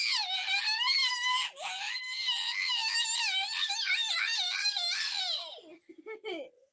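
A child screeches loudly in long, wavering high-pitched bursts, nearly continuous for several seconds before breaking into short squeals and tailing off.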